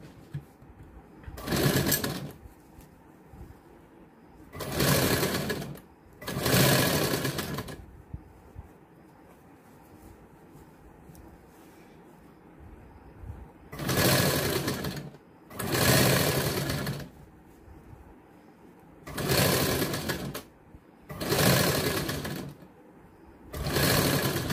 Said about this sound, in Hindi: इसको भी डबल सिलाई दे देंगे।